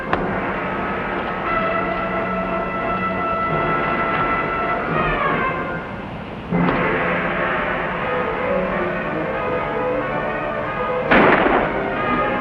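Rifle fire in a Western frontier fight against Apache riders, with sharp broadband shots cracking out twice amid continuous loud battle noise and rumble.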